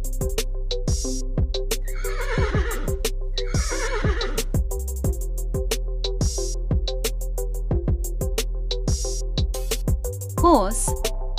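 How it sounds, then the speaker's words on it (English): A horse on a farm lets out two drawn-out whinnies early on, followed by a shorter whinny near the end. Steady music with a beat plays underneath throughout. "Horse."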